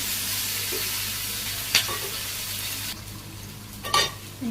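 Potatoes sautéing in a hot pan in a Bangladeshi village kitchen, a steady close sizzle and hiss with a couple of brief scraping stirs of the spoon; no voices.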